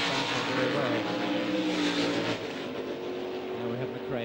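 A race car of its driver's own design accelerates around the Adelaide circuit in 1972, a loud, rising engine howl with shifting tones, heard over a constant background of racing noise.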